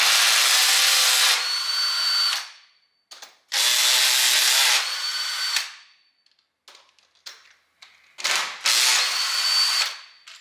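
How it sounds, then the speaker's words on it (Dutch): A power tool loosens the valve cover bolts on a turbocharged Mazda MX-5, whirring loudly and close in three strong bursts separated by short pauses, faint clicks and rattles. "daarvoor moet ik deze 3 bouten die de kleppendeksel vasthouden loshalen"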